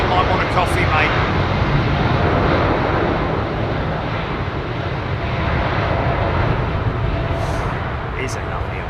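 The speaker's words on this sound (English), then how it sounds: "He's a big 777-300. Big old set of GE90s on it." A Boeing 777-300 airliner with GE90 engines at Heathrow gives a loud, steady, broadband engine roar and rumble that holds for the whole span, with faint background noise and no clear talk.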